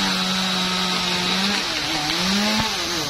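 A chainsaw cuts a small branch from a large eucalyptus tree near a beehive, its steady, loud engine whine holding a high pitch and rising briefly as the chain bites, running alone without voices.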